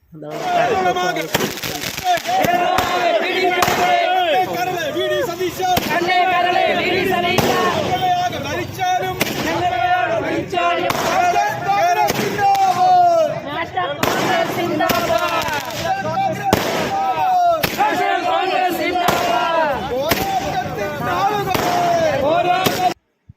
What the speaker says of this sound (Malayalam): എല്ലാവരും കൂടി പടക്കമൊക്കെ പൊട്ടിച്ച് ആഘോഷിച്ചു